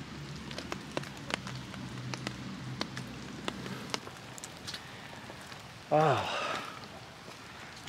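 Rain patters at Hiroshima Castle among fallen cherry blossom petals, scattered close drops ticking sharply over a soft wash, before a person briefly exclaims near the end.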